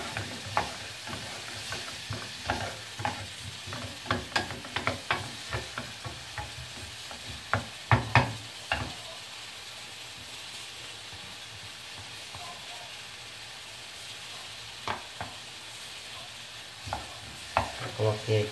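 Onion frying in a pan for a mango chutney, a steady sizzle broken by frequent sharp clacks and scrapes from stirring, busy through the first half and sparser later.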